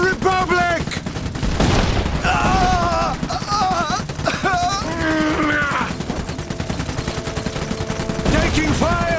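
Gunfire crackles in volleys through a battle in the video game Iron Harvest, Polanian campaign, with shouted voices and game sound layered over the loud, continuous firing.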